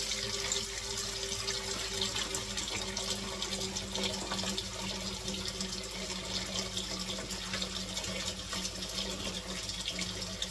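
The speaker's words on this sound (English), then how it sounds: "I'm going to fill it up halfway with hot water." Hot tap water runs steadily into a canning pot being filled halfway for making apple butter, a soft, continuous rushing splash with no voices.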